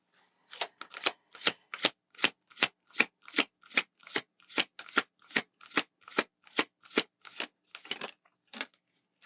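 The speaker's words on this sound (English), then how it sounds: "And we'll just get one of these mermaid oracle cards." Mermaid oracle cards are riffle-shuffled in quick, crisp bursts, about two dozen sharp fluttering snaps in a steady rhythm, close and isolated against silence.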